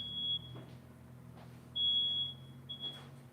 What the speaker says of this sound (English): Just smoke detector.